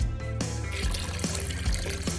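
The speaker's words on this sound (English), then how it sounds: "All right, now I need to pour in some of this juice." Juice pours into a bucket with a steady gushing, splashing stream, a few louder glugs and spatters along the way, close by and without any talking.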